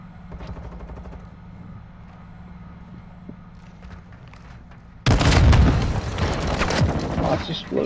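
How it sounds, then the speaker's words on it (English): A low engine-like drone gives way to a sudden loud burst of booming blasts and crackling gunfire that continues densely to the end, in Call of Duty: Modern Warfare II. "Explosions."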